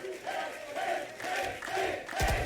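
Esports arena crowd at a Valorant Champions Tour match between LOUD and MIBR, a distant roar of cheering and shouting that swells in repeated waves, with a sharp thump near the end.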